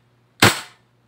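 An AW HX2001 Hi-Capa airsoft gas blowback pistol fires a single sharp, loud shot up close, a quick crack with a fast snappy slide cycle, then quiet.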